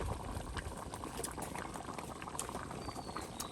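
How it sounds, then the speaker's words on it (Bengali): Fish curry bubbles and boils steadily in a pot in a village kitchen, a dense, continuous burbling simmer heard up close with no voices over it. "টকবক করে উঠতেছে গো, বলকায় বলকায় উঠতেছে"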